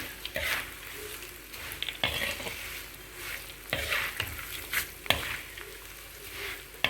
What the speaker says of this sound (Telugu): స్టవ్ ఆపే ఈ అటుకులు పోసేయండి ఒకసారి బాగా తిప్పండి